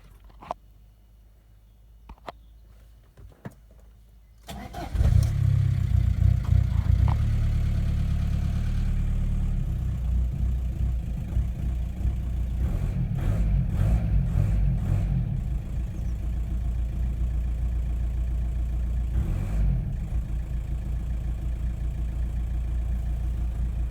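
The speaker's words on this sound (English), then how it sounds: "I'm going to start and run the engine now." A Passat B5.5 engine cranks and catches after a few quiet clicks, then settles into a steady, rough idle that runs on loudly and close, with small shifts in tone.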